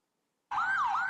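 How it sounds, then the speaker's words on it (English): An ambulance leaves the scene of a shooting with its siren wailing, rising and falling steadily after a moment of silence, clear and alone. "An ambulance with its lights and siren on left the area"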